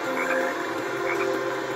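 Frogs croak in the video game Sonic Heroes, a dense chorus of repeated croaks layered over steady game ambience and music tones, fairly loud and continuous.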